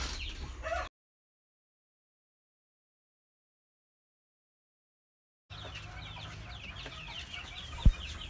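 A native hen brooding on her nest clucks in a few soft, close bursts at the start and again near the end, with a long silent gap between; no one speaks.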